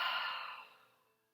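One long exhale during a slow-flow yoga pose, a close breathy sigh that starts strong and tapers gently into silence.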